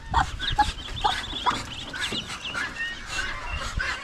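Farmyard chickens, including hens close to laying, cluck in a series of short, repeated calls at moderate distance, with a steady murmur of other fowl behind them on a rural provincial farm.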